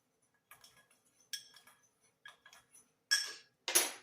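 A spoon stirs ground sunflower seeds and flaxseed into homemade chick starter feed, giving sparse, irregular clinks and short scrapes against the bowl with quiet gaps between, the last few strokes louder.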